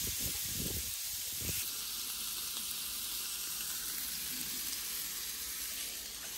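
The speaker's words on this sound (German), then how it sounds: "Und jetzt kann man die Wildschwein-Rückensteaks auch schon reinlegen." Wild boar back steaks sizzle on a hot OptiGrill XL contact grill, with a steady, loud, even hiss throughout and a few soft thumps near the start as the meat goes down.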